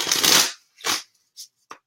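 Cards are shuffled for a reading: one long riffling burst followed by a shorter one and two brief flicks, close and fairly loud, with no voice over them.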